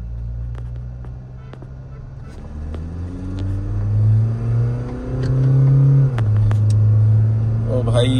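A Mahindra Scorpio N and a Kia Sonet, both diesel automatics, accelerate side by side in a rolling race; engine drone builds and climbs in pitch through gear changes, loud and close, with a brief horn-like burst near the end.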